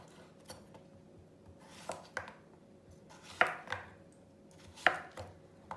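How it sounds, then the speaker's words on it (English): A knife cuts zucchini rounds into quarters on a cutting board, giving a series of soft, irregular close chops with a few sharper knocks, heard alone without talk. "we have our zucchini next, and it's in rounds, and then we're going to cut it into fourths"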